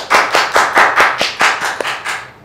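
Crew members at a student interview clap together, about nine sharp, evenly spaced claps ringing out close and loud with no talking over them.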